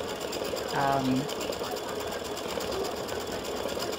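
An embroidery machine stitches a pendant and earrings design for freestanding lace, its steady mechanical whir running throughout with a brief tonal hum near the start.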